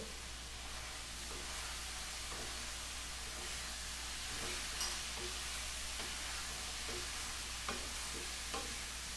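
Pork and bitter gourd (ampalaya) being stirred in a frying pan, a steady soft sizzle with faint scraping strokes of the utensil recurring every second or so, no voices.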